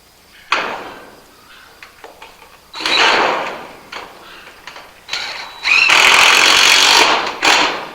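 A cordless power drill drives a screw into the frame of a chicken tractor in short bursts, the motor whirring up in several loud pulses with pauses between, finishing in a longer strained run close to the mic.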